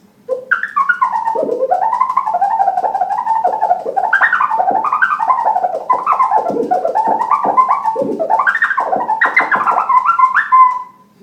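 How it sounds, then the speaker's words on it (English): Fast turntable chirp scratches, a loud continuous run of quick rising and falling pitch sweeps with a choppy, bird-like quality. "So if you start doing a chirp faster, it sounds like this."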